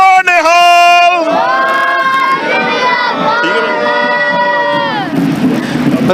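A large Sikh crowd at a Sikh Day Parade in Washington DC roars back the jaikara response after a single voice calls out, a sustained massed shout that swells, holds for several seconds and then fades into cheering and chatter.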